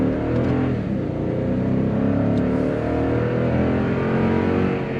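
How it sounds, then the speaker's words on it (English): A 2020 Toyota Tundra with a 5.7-liter V8 accelerates hard toward 60 mph, its deep engine note droning loud and steady from inside the cab. "Go ahead and do a quick acceleration test here."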